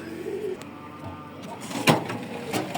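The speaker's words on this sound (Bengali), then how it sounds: "এই যে কবুতর কবুতরের বাসা" Pigeons coo at a nest on a house's rooftop garden, a soft low burbling at close range with a brief louder rustle near the middle.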